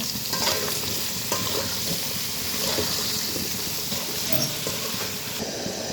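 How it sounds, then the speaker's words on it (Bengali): Vegetables fry with salt, turmeric and spices in a pan, giving a strong, continuous sizzle layered with frequent stirring scrapes up close. "এখন সবজিগুলোকে একটু ভেজে নেব, একটু লবণ, হলুদ সব মশলা দিয়ে নেব"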